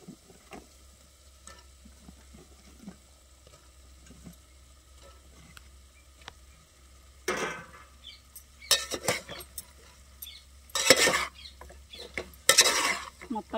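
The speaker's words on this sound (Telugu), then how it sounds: "అంతా కలిసేలా కలిపెట్టుకోండి" A drumstick curry is stirred in a pot, with faint scraping at first, then four loud bursts of a spoon scraping and clinking against the pot, separated by quiet gaps.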